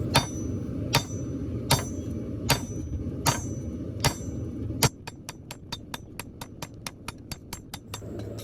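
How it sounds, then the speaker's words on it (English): A bowie knife tang is hand forged on an anvil: a hammer lands in slow, evenly spaced ringing blows, then switches to a faster run of sharp, bright strikes, close and clear without speech. "I can start aggressively forging in the actual tang"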